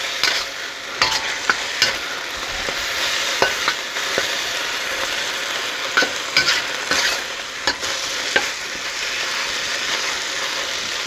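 Food sizzles and fries steadily in a pan while being stirred, with repeated scraping clatters of a utensil against the pan over a continuous hiss; no talking.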